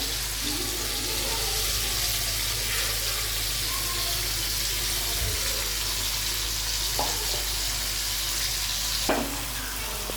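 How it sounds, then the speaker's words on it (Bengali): Spices for a chicken curry sizzle steadily in hot oil with softened tomatoes, a constant crackling hiss over a low hum, with a couple of light utensil clinks near the end. "মশলাপাতি সব কিছু ভাজা হয়ে যায়"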